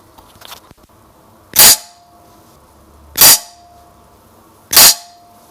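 Three sharp, loud air rifle shots firing pellets ring out about a second and a half apart, each a crisp crack with a short ringing tail, separated by near silence.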